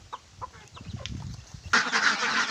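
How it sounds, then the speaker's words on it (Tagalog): Ducks quack noisily in a flock, scattered calls at first and then a louder burst of overlapping honking quacks nearby. "Sa ingay-ingay na yung mga itik ko."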